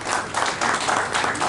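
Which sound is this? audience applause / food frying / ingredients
audience applause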